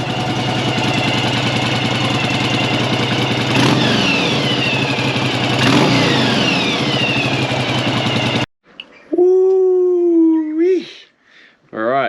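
A Yamaha XV750 motorcycle runs close by after carburetor work, its engine idling loudly and revving up and down for about eight seconds, followed by a short, high, wavering vocal shout.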